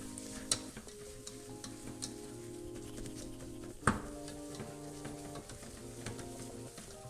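Mashed potato being dried out in a pan on the stove, worked with a whisk for a Chicken Kyiv recipe: a steady soft scraping and stirring with a couple of sharp clinks, no talking.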